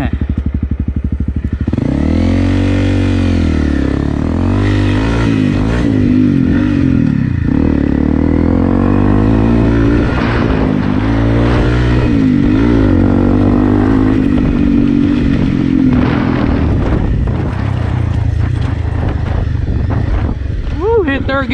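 Honda CRF 250 rally dual-sport motorcycle accelerating off-road, its engine revving loudly up through the gears with rising and falling pitch, close to the rider, with someone talking over it.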